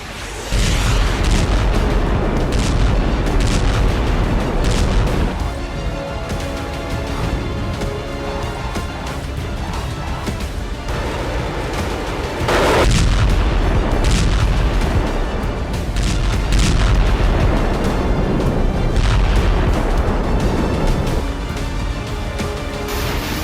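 Russian army artillery lays down cover fire in Ukraine as a loud, continuous barrage of heavy booms and rumbling blasts that surge and overlap without pause.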